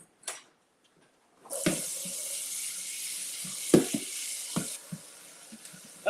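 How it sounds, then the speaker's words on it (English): Plain kitchen tap water runs from a faucet in a steady, close hiss for a few seconds, with a few clinks of cookware around it, then stops. "We'll just get just regular tap water since we're gonna cook it over the stove."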